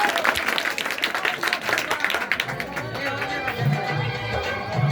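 A wedding crowd gives loud, dense applause to welcome the father-in-law for a couple of seconds, then the clapping fades as a voice begins speaking over the hall.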